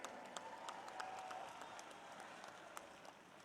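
A crowd at a Haryana political rally led by CM Nayab Saini applauds a cabinet minister, steady clapping heard faint and distant with a few sharper claps standing out.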